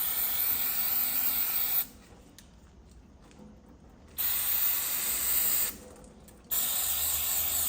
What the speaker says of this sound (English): I'm gonna give this a real good spray with brake cleaner first.